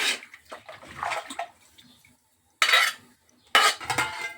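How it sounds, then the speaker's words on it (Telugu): Two short bursts of metal scraping and clinking inside a cooking pot as food with coriander and mint is stirred, with quieter kitchen clatter before them and pauses in between. "ఒకసారి అయితే కలిపేసి మూత పెట్టుకుందాము"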